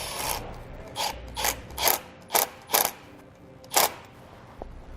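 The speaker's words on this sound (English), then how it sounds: "Then you can tighten your clamp down." A hose clamp is tightened on a transmission cooler hose for a Derale Series 8000 plate-fin cooler kit with barb inlets. About seven short, close ratcheting bursts sound in an uneven rhythm, separated by quiet pauses, with no talking.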